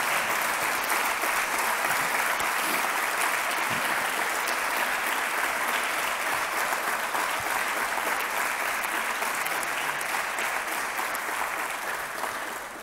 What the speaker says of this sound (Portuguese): que se chama Rui Pedro Ávila, aos quais peço um enorme salva de palmas para eles.